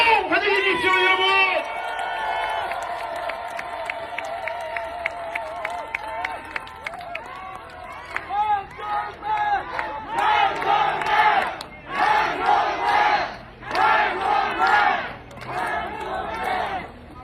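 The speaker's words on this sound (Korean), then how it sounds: "여러분, 큰 박수로 환영해 주십시오, 여러분!" An election rally crowd at the Yeonggwang bus terminal, gathered for a county governor candidate, roars and shouts in swelling bursts after an announcer's amplified voice, the cheering rising and falling loudly through the second half.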